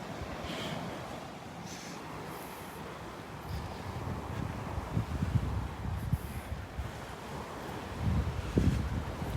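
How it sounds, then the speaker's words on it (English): Steady wind roars across an open beach, a broad hiss with low rumbling gusts that swell louder toward the middle and end. "it's going to get really windy out here."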